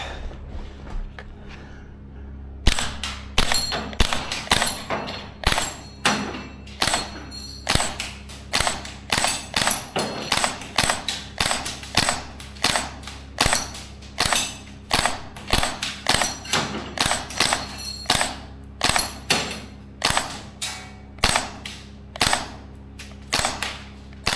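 Maruyama SPC-9 gas blowback airsoft rifle firing a long string of sharp, evenly spaced shots, each a crisp crack with a mechanical clack, close and loud after a brief quiet start, no talking.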